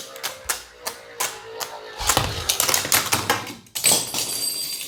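Beyblade spinning tops are launched into a stadium: a few spaced sharp clicks, then a rapid burst of clattering metallic clashes and scrapes, easing off before another flurry of hits.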